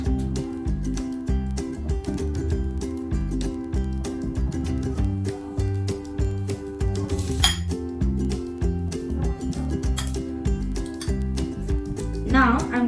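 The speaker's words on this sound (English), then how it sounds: "Now I'm going to take the egg out of the jar." Light glassy clinks and taps as an egg is lifted out of a glass jar, a few brief contacts over a steady bed of background music.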